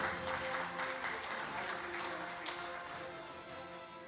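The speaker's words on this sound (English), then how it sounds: "Let's have a round of applause for Dr. Nishchal Naveen" Applause from the audience at the launch of a national stroke patient support network, moderately quiet sustained clapping that slowly fades, with some voices faintly underneath.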